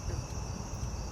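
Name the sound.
crickets chirping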